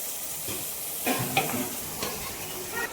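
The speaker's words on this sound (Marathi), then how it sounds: "आता मस्त परतून घ्यायचा मसाला सगळा." Spiced masala paste with cumin sautés in a pan, a soft sizzle under scraping stirs from a spoon, with a few louder bursts of stirring around the middle; close and fairly quiet with no talking.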